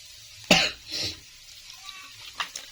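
A sharp, close cough followed by a second softer cough, then a few faint, brief throat sounds in an otherwise quiet room.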